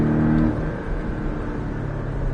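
A Porsche Cayman S engine accelerates in fourth gear on a driving course, a loud, sustained engine drone heard from inside the car, swelling at first and then holding steady.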